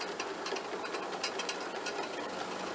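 A PTO-driven sickle mower on a conversion setup runs smoothly with a fast, even mechanical chatter, like a sewing machine, holding steady at moderate loudness.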